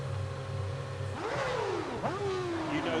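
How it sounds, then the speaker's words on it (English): Formula 1 cars rev and accelerate away at the start of the Imola Grand Prix in the F1 Championship Edition video game, with engine whines climbing in pitch and a second car rising just after. "And here we go for the start of the Imola Grand Prix."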